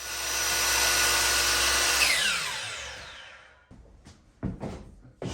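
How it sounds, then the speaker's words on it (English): A brad nailer drives 1-inch lightweight brad nails into dining room trim. A loud, steady whir fades out, then three sharp, close thuds follow at irregular intervals. "And we'll just attach them up with some lightweight brad nails."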